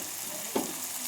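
Garlic paste hitting hot oil in a frying pan for a Bengali masala, a steady soft frying hiss with one brief louder sizzle burst midway, close and alone.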